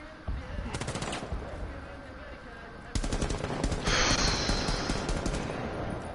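Rapid bursts of automatic gunfire in the video game Rainbow Six rattle loudly and continuously, with a heavier burst joining partway through and a voice talking faintly underneath.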